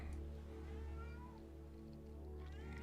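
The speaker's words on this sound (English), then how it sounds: "Oh, a studio cat's coming in." A cat meows faintly in a quiet studio room, a few soft drawn-out meows over a steady low electrical hum, with no talking.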